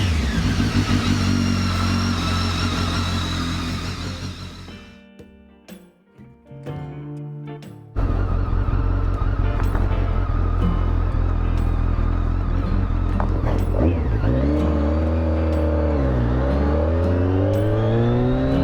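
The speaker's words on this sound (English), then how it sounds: "I have an aftermarket exhaust on it, so it's got a nice tone to it." A loud BMW K1200S motorcycle engine with an aftermarket exhaust roars and revs with a deep raspy exhaust note, dips briefly, then idles and revs up again close by.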